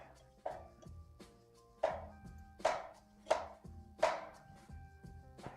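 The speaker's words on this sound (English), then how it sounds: "I'm chopping my onions again, just a few." A knife chopping onions on a cutting board in a home kitchen while a Thanksgiving dinner is cooked, several crisp, fairly close knocks at an uneven, unhurried pace, with no talking.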